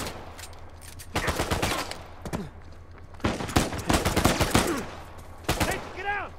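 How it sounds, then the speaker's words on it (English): Gunshots from the action game Uncharted 4 ring out in several separate bursts of sharp, loud cracks over quiet background ambience, with a high ringing tail after the last. "Oh, this is a one-shot headshot."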